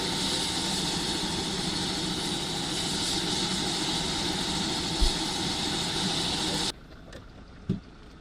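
A helicopter landing on a helipad, a loud, steady rotor and engine roar with broadband wind noise that cuts off abruptly near the end, leaving faint background sounds.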